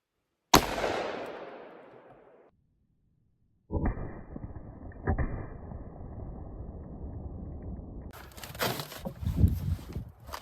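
A .44 Magnum round is fired into body armor on a test dummy: one sharp, loud blast with a decaying tail, then silence, followed by rustling and clattering handling noise that builds near the end.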